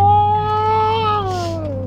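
A 2023 Dodge Durango SRT Hellcat gives off a loud, high-pitched supercharger whine that holds steady and then slides slightly downward in pitch, heard close from inside the vehicle.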